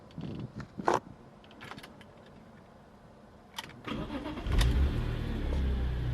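A 2004 BMW M3 E46 SMG convertible with its inline six engine starting: quiet cabin clicks, then the starter catches and the engine fires into a steady, deep rumbling idle that fills the end.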